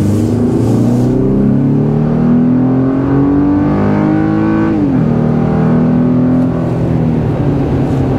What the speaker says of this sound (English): Let's do a 0-ish to 60 here real quick to see how this thing pulls.